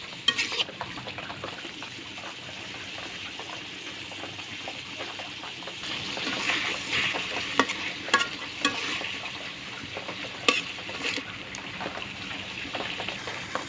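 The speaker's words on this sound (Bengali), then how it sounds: "মাছগুলো এখন মশলার সাথে ভালো করে কষে নেব" Hilsa fish pieces fry with a spice paste in a pan, giving a continuous close hiss and crackle, with the scrape of stirring rising and falling throughout and a few sharper clicks later on.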